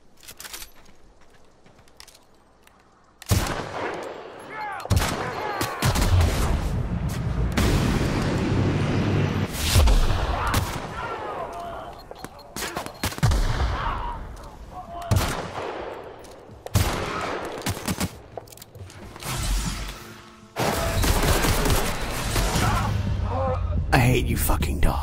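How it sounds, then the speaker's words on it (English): In The Outer Worlds, a sniper rifle loaded with explosive ammo fires loud booming blasts that repeat amid ongoing in-game combat noise, with a player's voice occasionally heard over the action. "Invest in explosive sniper ammo."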